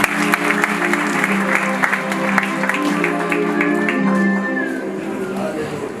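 A church congregation claps along steadily and rhythmically, a dense even patter of many hands over sustained singing or music, with no break across the stretch.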